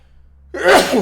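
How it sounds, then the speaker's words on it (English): A single loud sneeze bursts out abruptly after a moment of near silence, close and sharp with a breathy tail. "I'm gonna sneeze."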